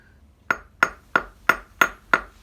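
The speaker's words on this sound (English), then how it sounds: "I'm going to do some preliminary hammering." Metal is hammered at a goldsmith's workbench: six sharp, ringing strikes at a steady, even pace, each a bright close metallic ping that fades quickly, with no talking.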